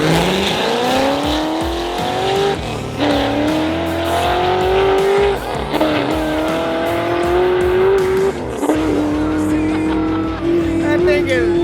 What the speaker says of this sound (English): Hopefully it does a nasty burnout so we can catch it